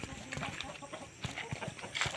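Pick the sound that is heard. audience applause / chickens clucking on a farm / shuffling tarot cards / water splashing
chickens clucking on a farm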